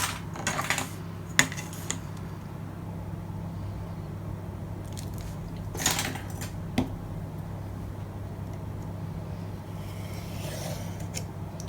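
Paper card for a Christmas mini album is trimmed, with a few brief crisp cutting and slicing bursts spread over a steady low background hum, close and fairly faint.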